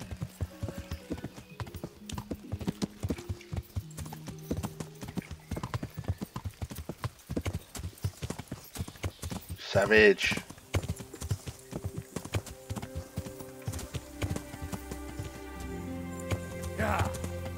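Horse hooves clip-clop steadily through Kingdom Come: Deliverance, a near, continuous rhythmic trot with someone talking over it, a brief whinny-like burst midway, and a patter like rain underneath.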